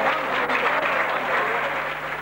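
Audience at a wedding celebration applauding an introduced folk artist, dense steady clapping from a crowd, loud and continuous throughout.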